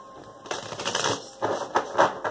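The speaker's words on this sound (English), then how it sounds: "if you don't want to watch me shuffle" Crisp riffling and slapping of tarot cards being shuffled, coming in quick bursts with short pauses between them, close by.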